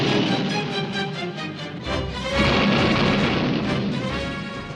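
A planet blows up in a sci-fi cartoon about the Transformer Arcee, a dense, loud rumbling blast with roaring noise swelling midway and sustained to the end, alone without voices.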